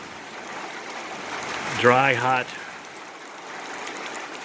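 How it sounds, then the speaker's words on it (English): Steady rain falls on an evening during a July thunderstorm, a soft, even hiss that runs throughout. Someone speaks briefly over it. "Nice little much needed rain going on."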